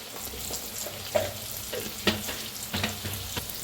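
Green chillies and garlic roasting in a pan for a Marathi chilli side dish, with a soft steady sizzle and occasional sharp stirring scrapes and taps close by.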